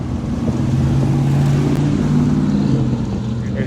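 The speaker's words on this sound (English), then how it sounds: "There's a big noisy truck going by." A big, noisy truck passes close by on a road during a bike ride, making a loud, steady engine roar with rumbling low tones and wind buffeting the microphone throughout.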